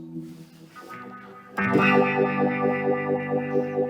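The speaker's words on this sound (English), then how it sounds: "There's the wah-wah. I'm sure you can hear that." An electric guitar strums chords through a heavily processed, distorted effect, its tone sweeping and pulsing rhythmically after a quieter opening.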